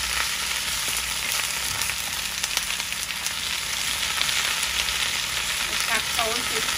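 Spinach frying with salt in a pan gives a steady, close sizzle with faint scraping as it is stirred, with a brief voice near the end.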